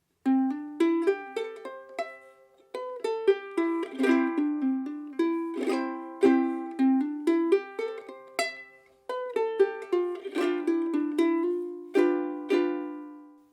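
A ukulele plucks a lilting three-beat melody, single notes ringing clearly with occasional strummed chords, played alone and up close.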